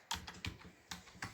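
Fingers type code on a computer keyboard during a JavaScript lesson, a short run of soft, close keystrokes arriving in small bursts with pauses, no talking.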